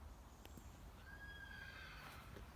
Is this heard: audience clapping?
no